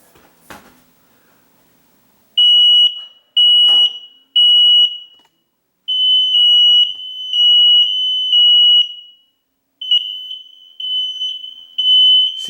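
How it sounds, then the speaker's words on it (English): A household ceiling smoke alarm sounds after being reset, giving loud, piercing electronic beeps in short bursts, then longer sustained tones broken by brief gaps, after a faint click at the start. "now I've got to reset the smoke alarm"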